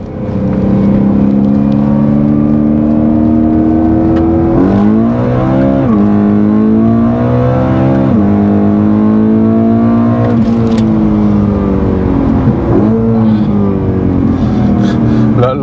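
BMW M4 accelerating hard from first gear, its engine note droning loud and close with rising pitch sweeps and shift dips, steady throughout and dominating the scene.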